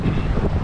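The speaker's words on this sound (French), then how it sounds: "Il y a un vent de ouf, des vagues incroyables." Strong wind roars steadily into the microphone on a fishing trip by a rough sea with big waves, a dense low rumble with gusty fluctuations and no voices.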